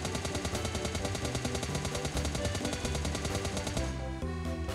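Rapid automatic gunfire from a rifle fitted with a vertical grip in a shooting video game, with dense, continuous bursts of sharp shots rattling out loud and close for several seconds.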